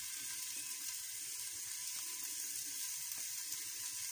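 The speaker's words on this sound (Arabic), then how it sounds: "انا غادي نحط البصله ديالي في الكوكوط، حطيت داك نص كاس اللي بقى ليا ديال الزيت، وغادي نحط البصله تشحر شي شويه هي" Onion frying in about half a glass of oil in a cooking pot, a steady, even hiss of sizzling that carries on quietly and unbroken without pauses.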